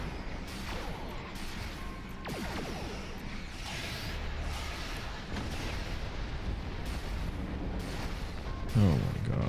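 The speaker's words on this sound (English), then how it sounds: "one of the torpedoes missed" Starship torpedoes firing and exploding in the video game Star Trek Online, a continuous loud rumble of booming blasts and crashes, with a heavier impact near the end.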